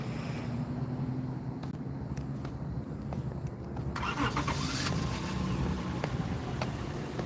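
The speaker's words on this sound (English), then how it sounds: "Oh, you just warming up the car?" A car engine starts and settles into a steady idle as it warms up, a constant low rumble heard from nearby with some wind buffeting, and a brief rise in hiss midway.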